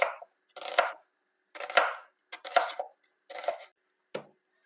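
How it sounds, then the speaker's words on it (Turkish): A knife chops a dry onion and garlic cloves on a board in about eight distinct, crisp cuts with short silent gaps between them, close and fairly quiet. "bir adet kuru soğanımızı ve 3 diş soğanımızı yemeklik olarak doğrayalım"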